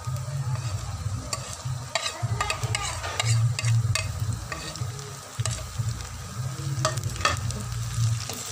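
Onions, tomatoes and chillies fry in a pan with a continuous loud sizzle, while a spoon scrapes and stirs in close, irregular strokes throughout.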